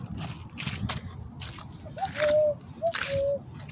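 Water splashes and sloshes in short bursts as it drains, fairly close, with a couple of brief gurgling tones near the end.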